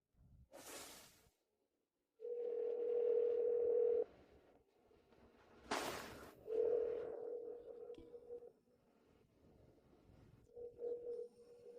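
A telephone line after a number has been dialed gives steady held tones in two long bursts separated by short whooshing rustles, fairly close and clear, with no talking.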